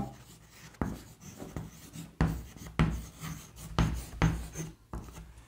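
Pen scratching on paper during maths work, a series of short rubbing strokes in uneven bursts with brief pauses between them, close and clear with no talk.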